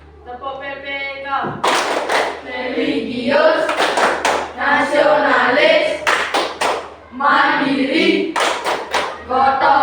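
A classroom of students performs a rhythmic group clap chant, bursts of synchronized hand claps alternating with chanted words, loud and close with voices throughout.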